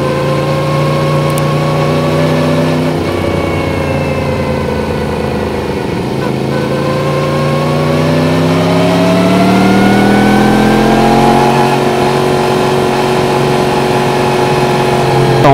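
A Honda motorcycle engine pulls hard out of a curve on a winding county road, its note rising and falling through steady revs as the rider throttles on, loud and close throughout.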